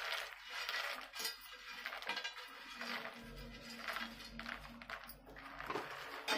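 Makhana and sesame seeds are stirred into melted jaggery in a pan over a lit gas flame, with steady scraping and light clinking of a spoon against the pan throughout.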